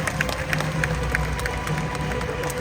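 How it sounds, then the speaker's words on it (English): A crowd applauds for Nelson, a sea eagle, at a bird show in Bird Paradise, Singapore, with steady dense clapping and cheering held at an even level throughout. "Let's give Nelson a big round of applause."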